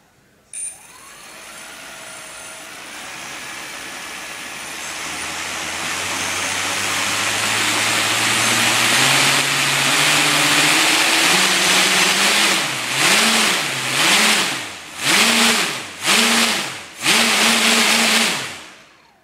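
FM4008 brushless motor running on a flashed 20 amp speed controller, spinning up from silence into a rising whine, then revving up and down in repeated pulses toward the end, loud and alone.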